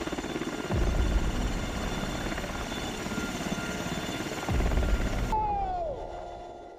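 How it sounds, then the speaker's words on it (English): A Philippine Army helicopter's rotor thuds steadily and loudly over water, swelling twice as it passes, then cuts off abruptly near the end, leaving a brief falling whistle. "Once ready, the helicopter took off"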